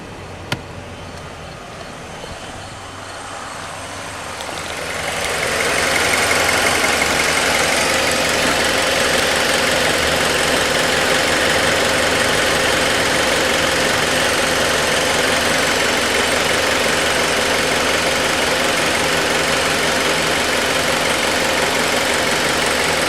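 A Chevrolet HHR engine idles steadily with an HHO hydrogen-oxygen fuel cell switched on, a continuous mid-pitched hum that swells after a few seconds and then holds loud and even to the end, with no talking.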